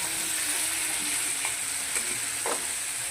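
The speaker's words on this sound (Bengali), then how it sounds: "এবার আমি ভেজে রাখা পনিরগুলো দিয়ে দিলাম। একটু কষানো হবে।" Pre-fried paneer sizzling in a hot pan, a bright continuous hiss with a few soft stirring scrapes, close and steady with no talking.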